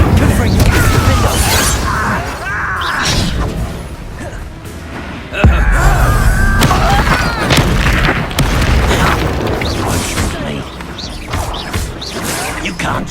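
Spell-casting explosions in the Hogwarts Legacy video game, loud booms and crashing blasts one after another with a heavy impact near the middle, under energetic game music and character voices.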